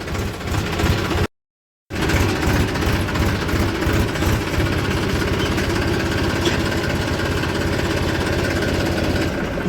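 A tractor engine runs steadily on a roadside route, a loud continuous mid-pitched drone with a brief drop to silence near the start before the same running resumes, with no talking.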